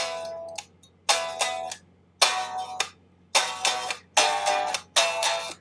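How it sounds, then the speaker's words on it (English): An unplugged electric guitar strums power chords in short choppy bursts, about six bright strummed hits with quick muted gaps between them, thin and close without amplification, no voices. "That sound is like a power chord"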